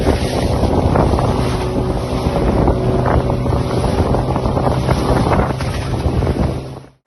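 Motorboat ferrying a family across the water to an island for snorkeling off Lombok, its engine droning loud and steady under heavy wind buffeting and splashing waves, cutting off abruptly at the end.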